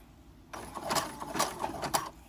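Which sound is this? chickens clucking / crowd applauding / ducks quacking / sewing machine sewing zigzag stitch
sewing machine sewing zigzag stitch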